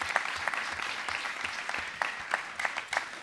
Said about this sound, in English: A round of applause for the British wheelchair champions